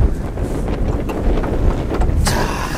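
Wind gusting steadily around a parked Lexus IS200 (Altezza), a broadband rushing roar buffeting the microphone close up, with a brighter gust swelling near the end and no voices.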